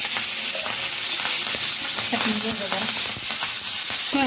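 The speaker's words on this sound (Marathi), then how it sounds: "आता इथं आपल्याला तेल टाकायचं आहे चांगले दोन पळ्या तेल टाकले" About two ladles of oil heating in a pan in a home kitchen, giving a steady dense sizzle with occasional crackles and faint clinks throughout.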